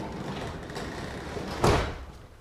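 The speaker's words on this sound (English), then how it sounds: "So put the door back down," A garage door on a torsion spring is lowered, with a quiet rolling rumble that builds to a sharp, loud thud as it closes, then fades.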